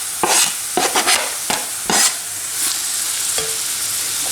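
Zucchini pieces fry with shallot and garlic in a pan, a loud bright sizzle broken by several sharp scrapes and taps of a utensil stirring close by.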